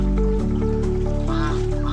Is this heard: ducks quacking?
yes